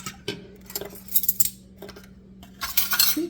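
Metal utensil clinking and scraping against a bowl while sweet potato muffin batter is beaten, in uneven rattling bursts, close and fairly loud.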